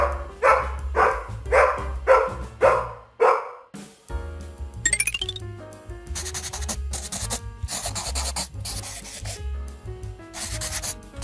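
A dog barks six times in a steady rhythm, then upbeat music with a driving beat takes over.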